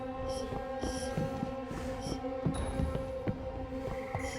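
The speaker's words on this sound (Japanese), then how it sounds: "ハートロッカーはね 心音が 狭い気がしますね" Heartbeat terror radius from a video game, heard while a killer called the Heart Rocker hunts on a new map: a steady, throbbing double-thump pulse that repeats at an even pace over a continuous low hum.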